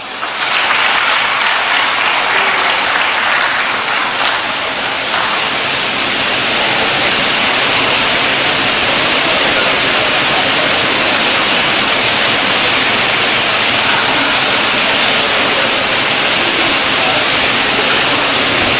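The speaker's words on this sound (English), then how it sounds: "Let us welcome him with a round of applause." Sustained, dense applause from a large audience welcoming the President of the Republic of Ghana at a public event, steady and loud throughout with no pauses or voices standing out.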